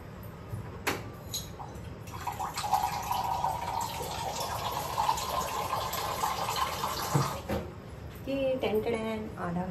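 Water pours into a pan for coffee preparation with a steady splashing, running rush that stops near the end, fairly close, with faint background sounds and no clear talking over it.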